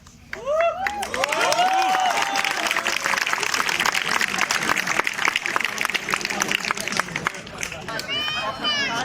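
Audience at an outdoor street play on the IIT Kanpur campus breaks into loud, sustained applause and clapping with cheers and crowd chatter, steady for several seconds before tapering off.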